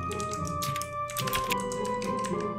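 Rapid, close typing on a computer keyboard, a steady patter of key clicks running throughout with a faint steady background hum behind it.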